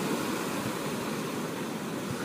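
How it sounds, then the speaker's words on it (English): Ocean waves crash steadily as a continuous broadband surf roar, even and unbroken throughout, with no voices. "I want you to think of the waves crashing in the background"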